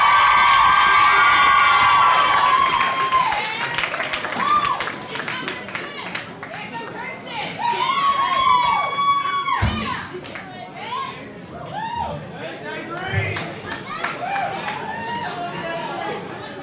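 A crowd at a singing competition cheers, shrieks and claps loudly for a singer, with high excited screams at first, then mixed shouting and chatter that rises and fades.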